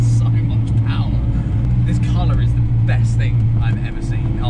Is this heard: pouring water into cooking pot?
no